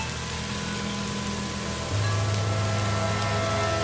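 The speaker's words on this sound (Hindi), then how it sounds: "हे बजरंग बली, कैसी घनघोर बरसात बरसा दी है।" Heavy rain pours in a cartoon horror-story storm at night, with a bullock cart stuck in mud. A constant hiss of downpour is heard without speech, and a low droning hum swells partway through.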